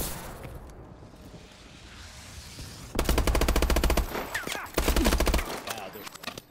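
Automatic gunfire from a rifle in Call of Duty: Advanced Warfare, heard as two loud, rapid bursts of shots separated by a short pause, over quieter game ambience.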